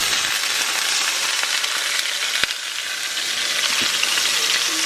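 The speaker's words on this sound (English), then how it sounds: "And we are on a high heat, so it's gonna sizzle." Food searing in hot sesame oil over high heat, a steady close sizzle and hiss running throughout with faint stirring clicks.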